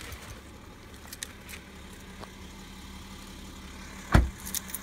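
A BMW car engine idles after a remote start, a faint, steady low hum that runs throughout, with one short sharp click near the end.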